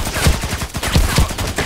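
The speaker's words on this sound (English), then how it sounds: "Just shooting in the green stuff here." Rapid bursts of gunfire in Contract Wars, close and loud, several quick shots in an uneven rhythm over under two seconds, no voices.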